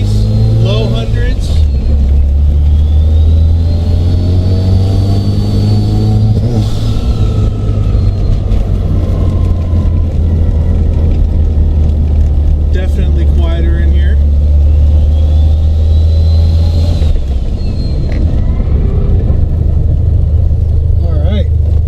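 Inside a Mazda RX7 FC3S with a custom rotary exhaust, a loud steady engine drone rises and falls through several revs, while someone talks over it.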